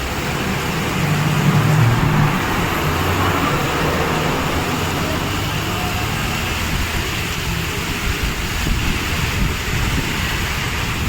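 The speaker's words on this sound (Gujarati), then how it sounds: "બસ હમણાં જશે તો જોજો તમે બસ ઉપરથી બી પાણીના છાંટા ઉઠશે બસ આવી રહી છે" A bus passing through heavy rainwater at a flooded Ahmedabad bus station, its steady engine rumble and hiss of spraying water blending with continuous downpour, loud and close throughout with no pauses.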